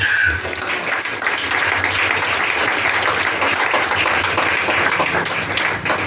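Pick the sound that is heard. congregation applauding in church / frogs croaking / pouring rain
congregation applauding in church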